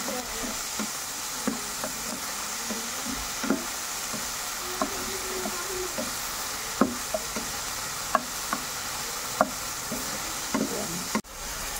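A spoon stirs garbanzos with oyster sauce and black pepper in a sizzling frying pan, steady frying hiss under repeated light scrapes and clicks of the utensil against the pan, with a sharper knock near the end.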